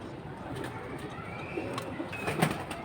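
At a pigeon market, pigeons give soft, faint coos over a murmuring background of distant voices and crowd noise.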